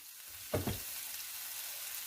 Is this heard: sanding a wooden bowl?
no